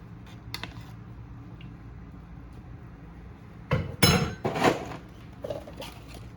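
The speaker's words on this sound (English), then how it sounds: "Stir the pasta again." Pasta being stirred in a pot with Parmesan cheese for homemade Alfredo sauce, heard as a short cluster of sharp utensil clanks and scrapes against the pot after a low, quiet background hum.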